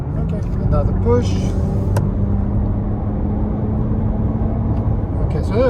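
A 2022 Nissan Rogue accelerates on a highway, a steady engine and road-noise drone from inside the cabin with tire rumble, while a person talks over it.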